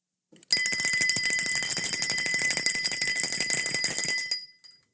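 A bright metallic bell rings rapidly and continuously for about four seconds, a loud trilling ring that stops abruptly.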